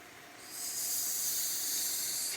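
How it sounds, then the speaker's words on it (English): Chaffle batter sizzles with a steady, fairly loud hiss that rises after a moment and holds, with no talking. "sizzling sound"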